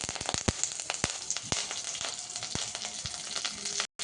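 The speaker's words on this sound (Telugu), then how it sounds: "ప్యాన్ గిన్నె పెట్టుకొని ఆవాలు జీలకర్ర ఎల్లిపాయలు ఎండుమిరపకాయలు వేసినాం" Mustard seeds, cumin, garlic and dried chillies frying in hot oil in a pan, a steady close sizzle punctuated by frequent sharp pops and crackles as the seeds splutter.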